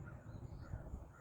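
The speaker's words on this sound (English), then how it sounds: "And with that the crows start." Crows caw faintly in the distance, a few soft calls against a low, steady background rumble.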